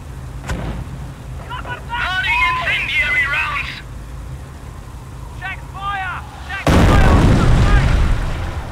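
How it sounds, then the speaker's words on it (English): Video game artillery barrage pounding an enemy squad: heavy booming fire arrives as a loud, sustained rumble near the end, after stretches of chirpy electronic game tones and voices talking. "Continue to barrage the enemy squad until they are defeated."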